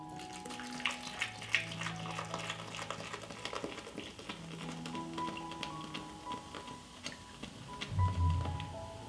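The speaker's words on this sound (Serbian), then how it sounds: "u šerpu sipam pivo" Beer from a bottle is poured into a cooking pot that already holds meat, bay leaves, salt and peppercorns, making a continuous splashing, gurgling stream over a faint tonal background.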